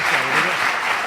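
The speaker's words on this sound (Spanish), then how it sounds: "También un aplauso para el señor López." Audience at an osteoarthritis conference session clapping for an invited biologist, a brief dense round of applause from many people in a hall, steady and fairly loud.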